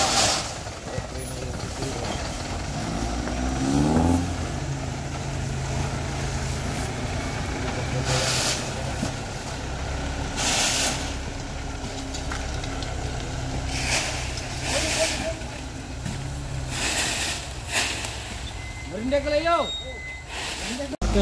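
A Fuso diesel truck rated at 125 PS, heavily loaded and stuck in a long traffic jam, rumbles steadily with a low engine drone, occasional hiss bursts and passing traffic noise, while people talk nearby.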